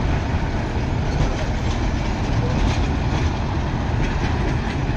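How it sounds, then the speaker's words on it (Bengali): Train pulling out of Joydebpur station toward Kamalapur, a loud continuous rumble of wheels and carriages with rhythmic rail clatter, close and filling the whole clip. "কমলাপুরের উদ্দেশ্যে ট্রেনটি ছেড়ে যাচ্ছে জয়দেবপুর স্টেশন থেকে।"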